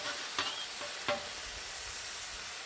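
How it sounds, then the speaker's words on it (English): Thin-cut sirloin steaks sear on a hot Blackstone griddle, a steady near sizzle with a couple of brief sharp crackles early on, no voices. "Let's get a little sear going."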